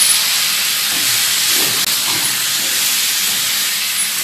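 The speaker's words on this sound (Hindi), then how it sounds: "अब ये आलू बड़े मज़े से फ्राई हो रहे हैं।" Potatoes frying in hot oil, a loud, even, continuous hiss of sizzling heard close up with no talking.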